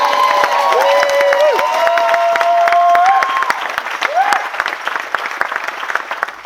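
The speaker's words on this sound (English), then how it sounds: "So that in itself just deserves a big round of applause," Wedding guests break into a big round of applause at the reception during the speeches, a dense, steady clapping that fills the room and slowly fades, with a few voices and a tonal whine over it.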